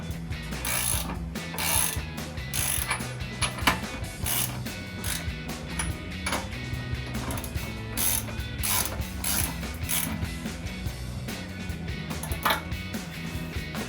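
Ratchet clicking steadily while a spare tire is remounted on a Jeep Wrangler JK's tailgate carrier, close and continuous in quick bursts of pawl clicks with short pauses between them.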